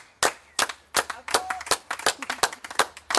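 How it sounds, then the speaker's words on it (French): Sparse, separate hand claps from people on balconies at a neighbourhood serenade, about a dozen sharp slaps with uneven spacing, moderately close and with no voices over them. "On va terminer par les applaudissements."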